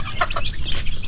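Chickens clucking on a farm where the birds are fed and watered, a few short close clucks and calls over a steady low background hum.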